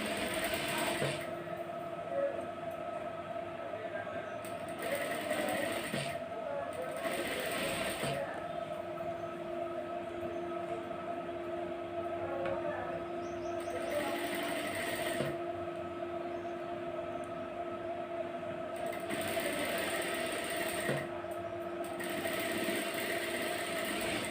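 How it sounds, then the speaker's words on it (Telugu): Sewing machine stitching a plain blouse, a steady mechanical whir with a constant hum running throughout, interrupted by several short bursts of faster, louder stitching, close and alone for over twenty seconds. "డబల్ కుట్టు వేసుకోవాలి ఒకసారి అయిపోయిన తర్వాత నెక్స్ట్ సెకండ్ టైం కూడా డబల్"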